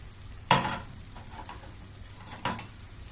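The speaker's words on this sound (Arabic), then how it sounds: "نزلت بالجزر نقلبه حلو" Grated carrot stirred into meat cooking in a pot, a quiet sizzle running throughout with two sharp scraping stirs of a utensil against the pot, one early and one near the end.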